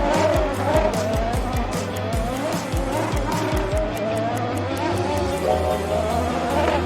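Race cars speeding around a six-lane racing track, engines roaring with repeated rapid passes and squealing tires, loud and close, continuous throughout.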